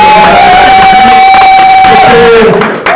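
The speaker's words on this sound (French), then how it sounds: "On applaudit très très fort, mesdames et messieurs." A crowd at a celebratory gathering of artists and musicians with Félix Tshisekedi applauds and cheers loudly and continuously, with a sustained whistle-like tone running through the roar.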